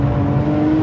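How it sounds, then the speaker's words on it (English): A Porsche 911 GT3 RS of the 997 generation, with a 3.8-litre flat-six, holds a loud steady rev, a dense mechanical drone filling the short moment with no talk. "when I do, you get that engine, the mother of all engines"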